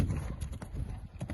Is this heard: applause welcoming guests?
no